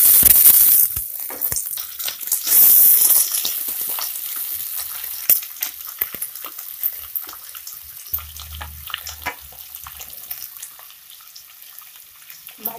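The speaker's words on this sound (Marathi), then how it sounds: "आता आपण यामध्ये कापून ठेवलेल्या सर्व भाज्या घालूया." Chopped vegetables hit hot oil with garlic-ginger paste for Chinese-style jowar noodles, setting off a loud, close sizzle that eases after a few seconds into quieter frying hiss with scattered stirring scrapes.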